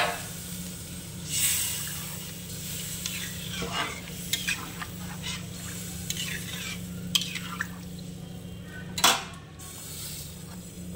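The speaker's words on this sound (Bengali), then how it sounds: "এবারে আমি জল দিয়ে দেব।" Water poured into a pan of frying spice masala for pabda fish curry, a steady sizzle and hiss with spoon stirring and occasional scrapes and clinks against the pan.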